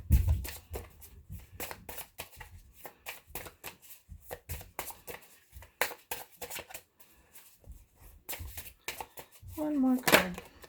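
Tarot cards being shuffled and drawn for a full moon reading, a rapid rustling riffle of cards close to the microphone with irregular flicks and taps, a voice briefly speaking near the end.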